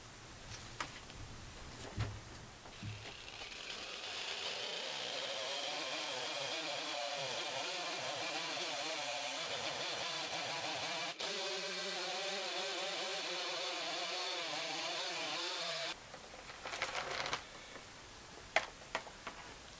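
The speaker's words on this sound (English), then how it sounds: "So I've got no choice but to just take a small edge off here with the chainsaw" A chainsaw cuts a small edge off a log at a sawmill, its engine revving into a loud, steady whine for about ten seconds before dropping back to a rough idle, with no talking over it.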